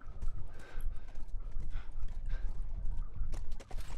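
Steady clip-clop of horse hooves at a trot in The Last of Us Remastered, fairly close, with a low rumbling background and a brief lull near the end.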